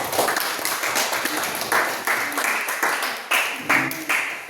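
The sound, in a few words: applause for the presenting group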